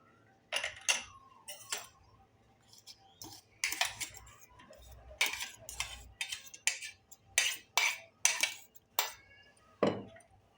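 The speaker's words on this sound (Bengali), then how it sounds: "এবারে দেখুন এইটাকে আমি ছেঁকে নেব।" Beetroot paste is pressed through a metal strainer with a series of close, uneven metallic clinks and scrapes of utensil against mesh and bowl, with short quiet gaps between the strokes.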